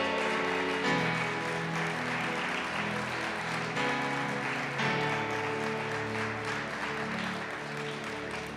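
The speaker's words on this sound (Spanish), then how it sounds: "Den un aplauso a mi Señor, por favor." Congregation applauding at a church service, a steady wash of clapping blended with sustained worship music throughout.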